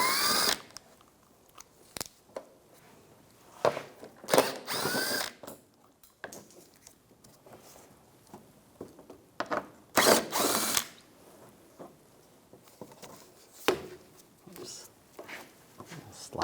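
A socket ratchet turns bolts out of the front spoiler area on a 2004-2009 Toyota Prius in several loud, separate bursts of rapid clicking, with quiet gaps between them.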